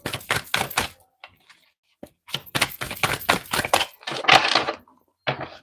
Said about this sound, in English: Going to pull 3 cards for you, see what they want to tell you for this week ahead.